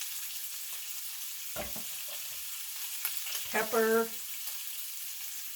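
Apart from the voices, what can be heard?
sausage and onion frying in a pan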